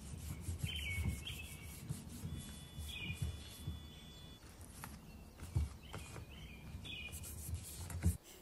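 Orchid leaves wiped by hand with a homemade mixture, giving soft, continuous close rubbing and brushing strokes with faint bird calls in the background.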